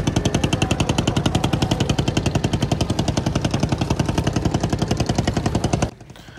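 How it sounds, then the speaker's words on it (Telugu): Engine of a manually steered river boat, not a motorised trawler, chugging loudly and steadily with a fast, even rapid-fire rhythm close by, then cutting off abruptly near the end. "ప్రస్తుతానికి వస్తున్న ఇంజిన్ సౌండ్ అయితే మంది మరబోట్లు కాదు, ఇది యాక్చువల్లీ మాన్యువల్ బోట్ అనమాట"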